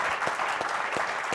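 An audience claps together at a youth conclave session in Bengaluru, a dense and steady wash of applause filling the room with no talk over it.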